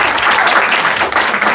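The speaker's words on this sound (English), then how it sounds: "Could y'all please applaud that?" A workshop audience at a Unitarian Universalist gathering gives a brief burst of close, loud, dense applause.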